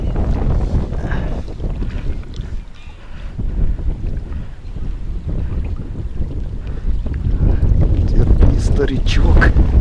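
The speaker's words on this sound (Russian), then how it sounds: "Бляха, ветер." Strong wind roars and buffets the microphone nonstop during a float fishing competition at Vileyka, rising in gusts toward the end, with someone talking over it.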